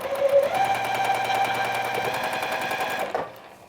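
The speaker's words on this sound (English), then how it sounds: "I'm gonna put this in here, and I'm gonna sew." A sewing machine runs in a rapid, even burst as it stitches quilt pieces along a quarter-inch seam, loud and close, then stops abruptly near the end.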